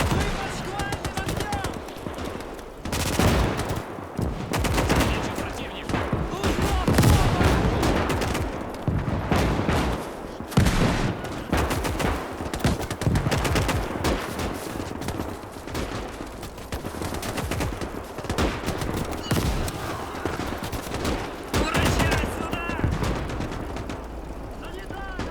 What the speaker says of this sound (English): Finnish bullets are targeting everyone out here, despite taking several losses in their own trenches